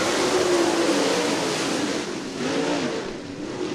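Late model race cars roar around a speedway during a heat race under green flag, a dense, continuous engine drone that swells and eases slightly as the pack passes, loud and steady throughout.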